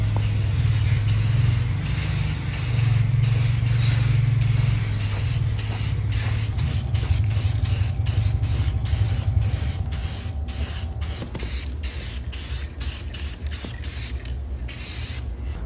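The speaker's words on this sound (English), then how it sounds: "Just gonna spray these down," A spray can hisses in repeated bursts, steady and close, as paint is sprayed onto a metal frame inside a Ford F100; the bursts come faster and shorter toward the end.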